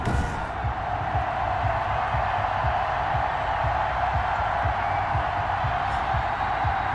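A packed stadium crowd roars steadily before a Jacksonville Jaguars vs Cincinnati Bengals NFL game in Cincinnati, a dense, continuous wash of cheering with no breaks.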